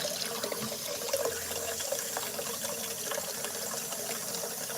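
Water runs steadily from an indoor tap, filling a container to carry out to chickens, a constant close gushing stream with no talking.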